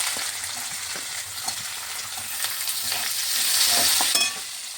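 Chopped ginger and green chili fry in oil in a pan, a continuous bright sizzle with occasional soft stirring scrapes, close and steady throughout.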